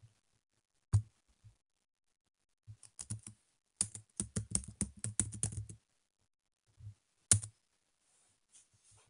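Search terms being typed on a computer keyboard, with short bursts of quiet, close key clicks separated by pauses and one denser flurry in the middle, in an otherwise silent room.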